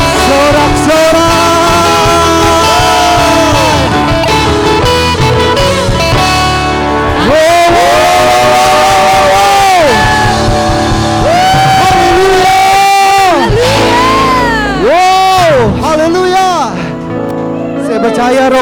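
Church congregation at a GBI Tigaraksa Sunday worship service shouting and cheering loudly and continuously, with sung and sustained voices rising and falling over full, dense music throughout.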